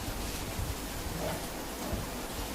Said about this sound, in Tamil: மழைலாம் உள்ள வருது.